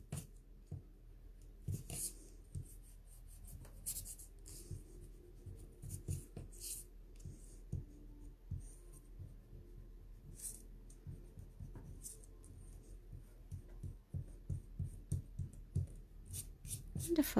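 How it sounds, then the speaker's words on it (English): A rubber eraser rubs out pencil marks on folded card, giving soft, quiet, repeated scrubbing strokes at close range, steady and low with no talk. "I'm just going to grab a rubber now, and I'm just going to rub out these little pencil marks there."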